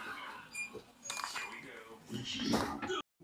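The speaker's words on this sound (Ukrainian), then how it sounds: "Набір приборів столових туристичних за 77 гривень ложка, виделка та ніж на такому карабіні." A camping cutlery set of spoon, fork and knife on a carabiner gives faint metallic clinks, partly masked by someone talking nearby.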